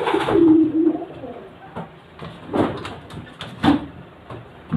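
Pigeons coo in soft, repeated bursts at close range, with a few louder calls and light background clatter between them.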